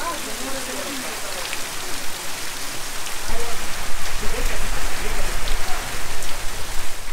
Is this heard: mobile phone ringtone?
no